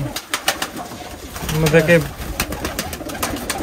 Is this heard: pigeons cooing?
yes